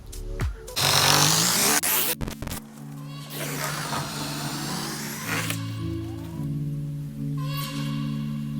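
A power drill whines in loud bursts with rattling metal and clunks between, close by, drilling through a metal rabbit cage, followed by quieter tool hum.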